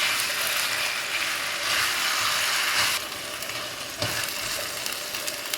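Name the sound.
chicken and potato frying and being mixed in pan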